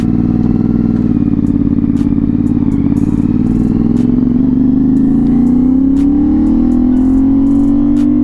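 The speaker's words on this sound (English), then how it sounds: "I'm just gonna do a quick pull and give you guys a quick sound of what it sounds like when you're accelerating." A CFMOTO 450SS motorcycle with an inline two-cylinder, 270-degree crank engine pulls away under acceleration, its loud, close exhaust note climbing steadily in pitch with brief clicks and clatter along the way.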